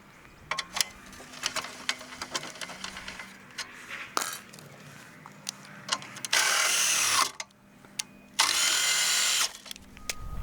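Power-driven stabilizer jacks on a DIY travel trailer run in two loud, steady buzzing bursts of about a second and a half each, preceded by scattered clicks and metallic clinks.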